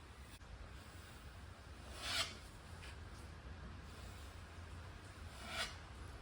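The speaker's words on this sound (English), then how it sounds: "now we're just going to put a little bit more of the jointing compound on and just fix up any little imperfections on there" A trowel spreads jointing compound over a plasterboard patch in a wall or ceiling repair, making two brief raspy scrapes against a quiet, faint room background.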